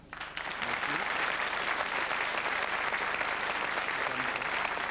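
Studio audience applause at a televised French operetta show on the Champs-Élysées programme, breaking out suddenly and holding as a dense, even roar of clapping throughout.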